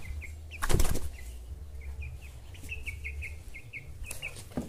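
A young chick jumps and beats its wings in a short, close flurry of flapping, amid a steady series of high, thin peeps.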